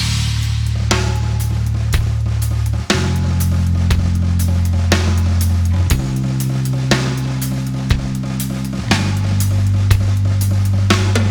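A steady band groove with sustained bass notes and regular drum hits, the beats falling in a shifting hemiola pattern of 4/4 over 6/4, loud and continuous.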